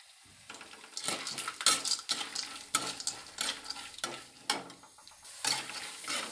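Ash gourd seeds are roasted in a pan, with the seeds rattling and scraping against the metal in repeated bursts as they are stirred, and a light sizzle beneath.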